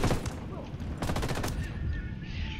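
Video game gunfire in Ghost Recon comes as a rapid automatic burst of shots in the middle, surrounded by quieter bangs and rumbling game ambience.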